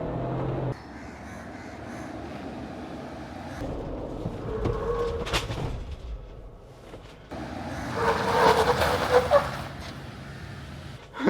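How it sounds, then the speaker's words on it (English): A Jeep Wrangler Rubicon brakes hard from 80 km/h on tarmac, with rushing road and engine noise. The noise swells and dips, and a brief tonal squeal rises near the end of the stop. No one speaks. "Time for a braking test with the Wrangler Rubicon."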